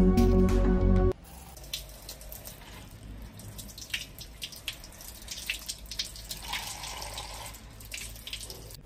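Tap water runs into a sink while plastic cups that held noodles are rinsed, a steady close splashing with irregular drips and small knocks, after a loud opening burst of a different sound in the first second.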